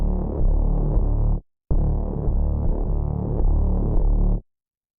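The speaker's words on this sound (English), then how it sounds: "So, I made a juicy synth bass in Vital that sounds like this." Juicy synth bass patch from the Vital synthesizer in a pop production, a loud, thick low-end line that plays in two phrases split by a short gap, then cuts off into silence.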